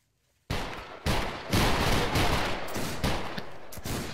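A musket volley from a Battle Grounds III line battle: one sharp loud crack of many guns firing together, then further overlapping shots and rolling echoes that stay dense to the end, with no voices.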